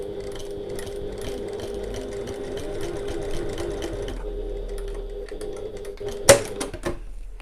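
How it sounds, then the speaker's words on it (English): A sewing machine stitches steadily along a marked line on a zip bridge for a bag, running in a continuous rapid whir for several seconds, then stopping, followed by a sharp click and brief handling sounds. "lift your presser foot and pivot, and sew along the line"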